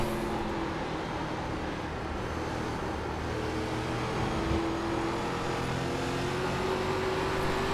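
A race car engine held at full throttle in iRacing's ARCA Menards Series at the Milwaukee Mile, a steady loud drone with a rising pitch, other cars close by, and no talking over it.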